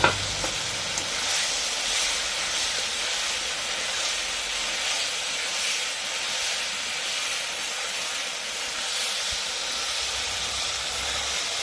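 Thin curry of small mourala fish and small brinjals sizzling steadily in a pan after the masala is cooked down, a continuous loud hissing fry with faint stirring, no voices.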